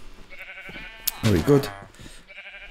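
Minecraft sheep bleating: a loud, wavering bleat or two near the middle, with softer game sounds before and after and someone talking briefly.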